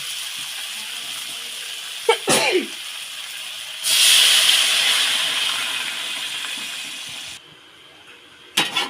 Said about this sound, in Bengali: আলু একটু জল দিয়ে দেবো সিদ্ধ হওয়ার জন্য